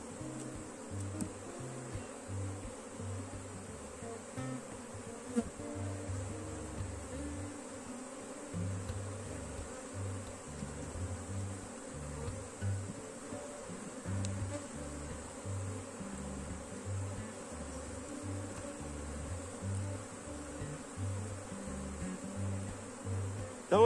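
A honeybee swarm at a hive buzzes in a steady, low drone that stays faint and continuous throughout, with no voices.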